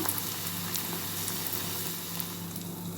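Onion bonda batter fries in hot oil over a medium flame, producing a soft, steady, even sizzle that stays faint and constant throughout, with no talking.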